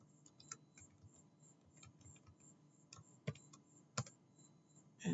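Rapid, irregular key clicks from a computer keyboard as a new password is typed, with a few sharper louder taps near the end; close and clear, no talking.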